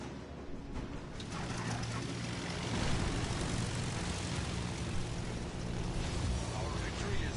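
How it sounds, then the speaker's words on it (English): A fighter aircraft taking off from a carrier in World of Warships Legends, a dense propeller engine drone that swells and holds steady, loud and continuous. "Fighter airborne."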